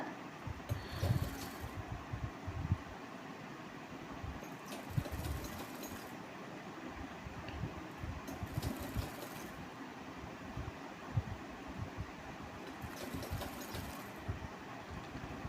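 A sewing machine stitches a blouse in short runs, a faint mechanical whir and rapid needle chatter in repeated bursts over a quiet background hum.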